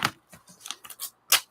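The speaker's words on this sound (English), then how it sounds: "Let's get the bigger scissors to get it out of the book." Several short crisp snips of large scissors cutting paper out of a book, spaced irregularly, with one sharper louder cut near the end.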